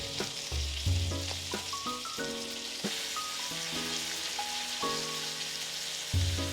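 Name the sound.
thick steak frying in a pan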